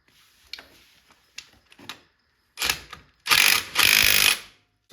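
Primary clutch bolt being tightened on a 1998-2005 Polaris Sportsman ATV: a few faint clicks, then three loud, close power-tool bursts about a second long each.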